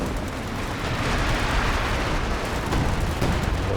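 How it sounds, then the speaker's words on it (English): Howitzer shell blast in Company of Heroes 2 during a 3v3 match: a continuous loud, rumbling wash of explosive noise with a thick low-end roar and scattered crackling bursts, sustained without pause and with no voices. "Howitzer coming in here."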